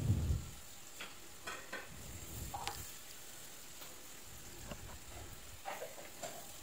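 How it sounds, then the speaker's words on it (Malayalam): A spatula stirs fried chicken into fried rice in a hot pan, with a steady sizzle under scattered scraping and clacking strokes, fairly close and moderate in level. "ചിക്കൻ ചേർത്ത് ഒന്ന് ഇളക്കി കൊടുക്കുക."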